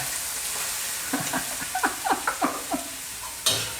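Hot dog fried rice with egg is stir-fried in a hot pan, with a steady sizzle under a run of quick scraping and tossing strokes and one sharper clack near the end.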